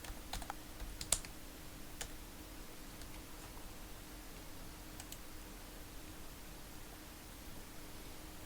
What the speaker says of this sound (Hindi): हम गूगल सर्च बार में जाकर टाइप करेंगे टिंकर कैड।